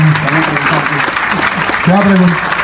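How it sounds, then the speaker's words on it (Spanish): Audience applause during a talk by a priest, a steady clapping wash heard under a voice that speaks over it throughout. "Un aplauso pues para este joven que ha preguntado."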